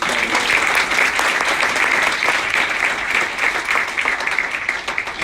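A large crowd at a New York bill-signing ceremony for the Child Victims Act gives a long, loud ovation for abuse survivors and advocates, dense continuous clapping that stays strong before tapering slightly.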